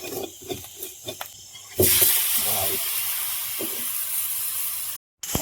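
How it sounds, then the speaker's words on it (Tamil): Fish dropped into masala in a pan sizzles loudly and steadily as it is stirred and fried outdoors at night on a farm, following a few soft clatters of the pan at the start. "இதில் வந்து இப்போ மீனை போட்டு இப்போ பெரட்டி கொண்டிருக்கிறோம்"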